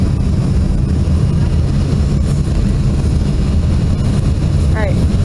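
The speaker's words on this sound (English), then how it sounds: "Alright, the gear's down, we're set to land." Steady, loud broadband roar inside the cabin of an American Eagle Envoy Air Embraer E145 descending with its landing gear down, a constant rushing drone with no break, and a short whistling tone near the end.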